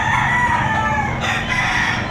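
A rooster crows loud and close among chickens for sale at a weekend market behind a mall in Lipa, Batangas, one drawn-out crow over a busy outdoor background.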